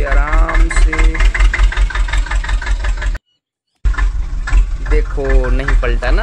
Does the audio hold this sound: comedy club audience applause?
no